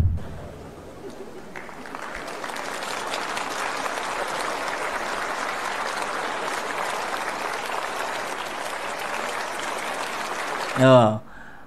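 A packed Indonesian parliamentary plenary session breaks into sustained applause and a standing ovation, a dense steady wash of clapping that swells and holds, ending with a short burst of a voice on a microphone.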